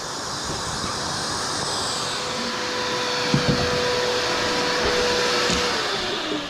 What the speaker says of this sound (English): so we got the hole cut out